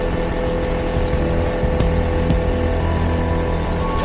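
A modified Puch moped engine with its air box removed runs loud and close, a harsh, steady buzzing drone with a slight surge partway through.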